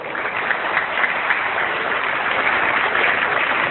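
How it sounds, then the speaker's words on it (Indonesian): Sustained audience applause for a speaker at an Islamic boarding school religious study broadcast, steady dense clapping with a slightly muffled, band-limited quality. "Tepuk tangan untuk beliau."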